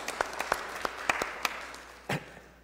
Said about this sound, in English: maybe we could give Bob just a round of applause